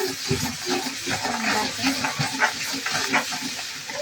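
Onion, tomato and masala mixture frying in oil in a pan while being stirred, an uneven sizzling hiss with scraping and clinking from the spoon, close and moderately loud.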